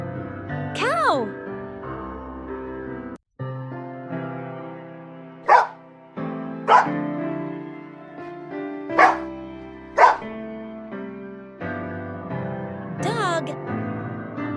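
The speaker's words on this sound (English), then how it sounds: "Dog." A dog gives a handful of sharp, separate barks spread across the span, interleaved with a voice speaking in a sound-guessing game for kids.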